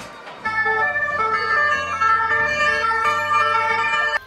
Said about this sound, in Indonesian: ada mobil pemadam kebakaran teman-teman